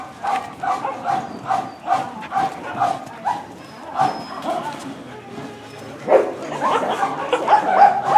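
Dogs at a shelter in Becej bark and yip repeatedly in quick, rhythmic bursts, close and loud, with whimpers mixed in and several dogs overlapping toward the end.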